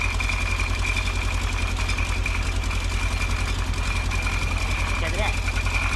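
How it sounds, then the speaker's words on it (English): The engine of a 2016 Polaris Ranger 900 Crew with a newly installed Duraclutch runs at a steady, loud, low idle rumble throughout. "we'll get in there and tap the throttle a little bit and see if that secondary moves at all"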